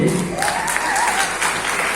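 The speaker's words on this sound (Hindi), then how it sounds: "एक बार पुरजोर तालियां अनिल कुमार जी के लिए।" Loud applause for Anil Kumar fills a seminar hall at a Vestige marketing motivational event, dense clapping from the crowd holding steady for a couple of seconds.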